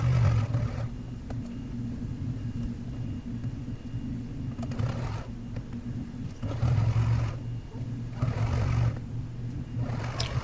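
A home sewing machine with a 12-inch throat stitches a scrappy string quilt strip, its steady motor whirring and rumbling up close in several runs separated by short pauses.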